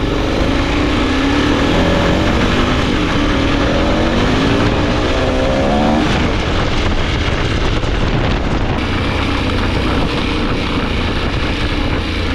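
A KTM 1090 adventure motorcycle cruising, engine droning loud and steady with rising and falling revs, heavy wind rush over the microphone throughout, no voices.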